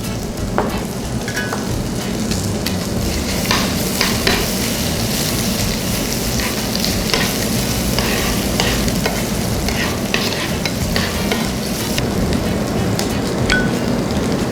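Peppers and carrots stir-fry loudly in a hot pan: a dense, continuous sizzle and crackle with frequent scraping and clinking of a utensil stirring, close and steady throughout.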